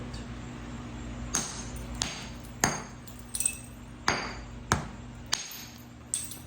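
Georgia jasper being flint-knapped to remove small spalls, a series of sharp, clicky strikes spaced about a second apart, one quick double tap among them, close and clear over a faint low hum.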